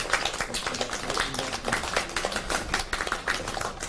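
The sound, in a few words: clapping at end of meeting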